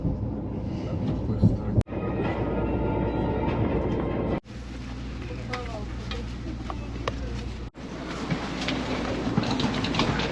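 Sapsan high-speed bullet train in Russia, heard from inside a carriage: a steady loud rumble of running noise with faint rhythmic clicks, broken twice by brief sharp drops.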